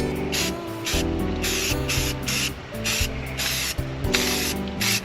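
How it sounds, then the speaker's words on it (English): Aerosol rattle can spray paint being applied to a plastic dump bed, heard as several loud hissing bursts of a few seconds each, sprayed close by over a steady low background hum. "Nothing like a little rattle can to make it look better"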